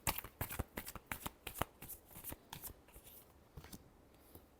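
Tarot cards being shuffled by hand, a quick run of crisp riffling flicks that slows and softens toward the end, close and fairly quiet with no voice over it.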